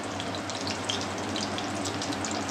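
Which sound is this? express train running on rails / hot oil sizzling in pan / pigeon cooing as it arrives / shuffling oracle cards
hot oil sizzling in pan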